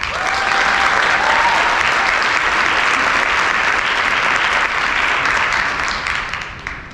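Sustained applause from a large audience at a chamber of commerce morning keynote, welcoming the speaker to the stage; steady, dense clapping that holds for several seconds and begins to fade at the end.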